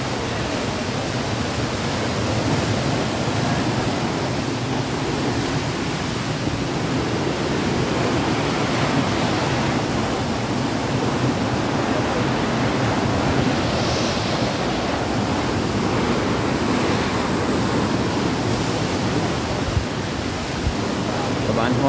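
A river flows through the English Garden in Munich, giving a steady, dense rush of water that stays loud and constant throughout. No other sound stands out.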